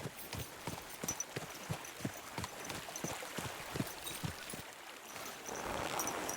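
Steady, rhythmic clip-clop of horse hooves at a walk in the video game Kingdom Come: Deliverance 2, moderately close, over a soft ambient background.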